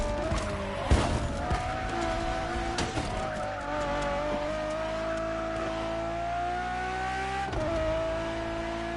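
A Ferrari Enzo supercar in Crew Motorfest revs and pulls away, its engine note climbing steadily with sharp shifts and brief tire squeal, loud and close throughout.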